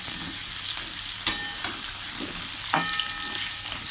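Pumpkin, eggplant and potato pieces frying in a pan of spiced oil, a steady close sizzle with a few sharp stirring scrapes and clatters, no voices.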